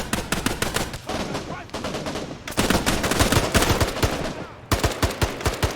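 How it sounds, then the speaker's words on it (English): Video game gunfire with machine gun bursts during a multiplayer military operation. Dense, loud rapid-fire volleys come in several long runs with brief pauses between them, and faint talk sits underneath. "A lot of gunshots going on."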